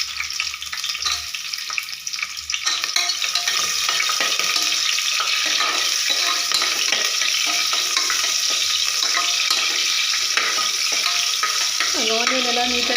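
Chopped onion fries for mutton kuska, a loud, continuous close sizzle with soft scraping stirs running throughout and no talk.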